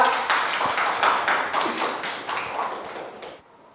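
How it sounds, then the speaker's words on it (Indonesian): Classroom group clapping for a student group during a teaching-practice lesson, a small scattered burst of hand claps that holds steady for a few seconds before tapering off. "Tepuk tangan buat kelompok 2"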